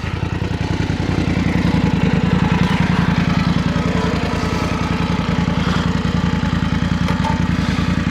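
A BMW F900 GS motorcycle engine running steadily nearby on a country lane, its rapid rhythmic putter loud and continuous throughout.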